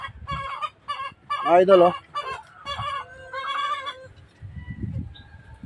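Gamefowl roosters of Roundhead, Dark Kelso and White Pit breeds cluck and call in a series of loud, close, harmonic bursts, one longer strained squawk in the middle, with a voice briefly speaking near the end.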